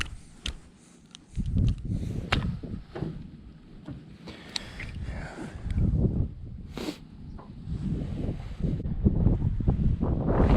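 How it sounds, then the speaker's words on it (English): Strong, gusty wind buffets the microphone outdoors on a jon boat while fishing for redfish in winter, a loud low rumble that swells and eases in irregular gusts throughout. "The wind is gusting pretty hard."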